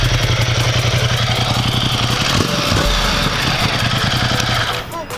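A motorcycle with a stock exhaust idles loud and close, a steady rough, deep grunting rumble that runs unbroken before easing slightly at the end.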